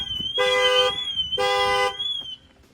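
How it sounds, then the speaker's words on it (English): Factory car alarm on a 2025 GMC Denali sounds after the glass is banged, two loud, close, pulsing honk bursts over a warbling siren tone, then a quieter tail. "You're going to see that the alarm's going to go off."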